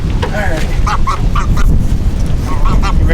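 Noisy geese give a scattered series of short honks at moderate distance, mixed with steady low background noise and possible faint voices.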